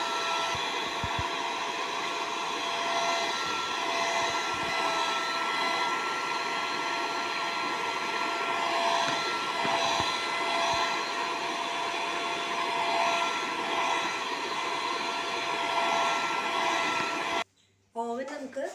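An electric mixer beats sugar into sponge cake batter for a butterscotch cake, a constant high buzzing whir that runs steadily and close, then cuts off abruptly near the end.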